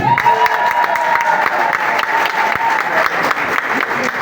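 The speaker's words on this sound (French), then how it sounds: "que je vous demande d'applaudir" A crowd at a political gathering about a referendum applauds loudly and steadily, a thick wash of clapping with some cheering throughout, while a voice talks over it.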